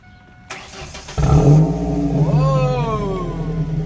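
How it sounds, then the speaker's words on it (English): A Ford Focus ZX3 fitted with a new catback exhaust cranks and fires at close range, quickly settling into a loud, deep idle with a brief rev swell, and no talking over it. "Alright, for startup, new exhaust."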